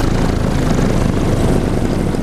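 A paramotor engine drones steadily in the air, a loud, close, continuous propeller roar with no breaks, as the pilot eases off the throttle before landing.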